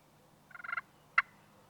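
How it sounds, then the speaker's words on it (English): A slate friction turkey call is worked with a striker dragged lightly over the surface, giving a short fluttery purr of rapid soft notes followed by one sharp cluck, close and clear against a quiet background. "drag your slate or your striker across the striking surface real lightly, and you'll feel it grab, and it'll make that fluttery sound"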